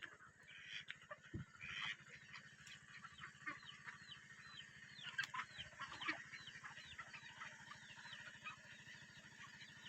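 Chickens and ducks settling into a coop at evening on a small home farm: scattered clucks and bird calls, fairly faint, over a steady low hum, with no speech.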